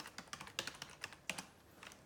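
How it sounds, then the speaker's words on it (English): Soft, uneven keystrokes tap on a computer keyboard during login, a dozen or so quiet clicks in short irregular runs close to the mic, with no talking. "I've also got it connected to this keyboard so that I can log in."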